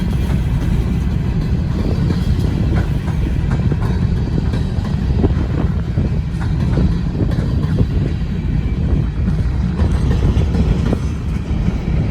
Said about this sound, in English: Pretty windy out. A lot of the wind's from the train.